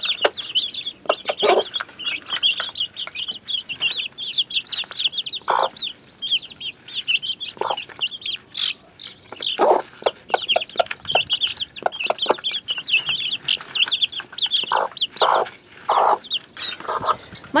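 A hen clucks in short, repeated bursts close by, calling her chicks to food, while the small chicks peep continuously at a higher pitch in the background.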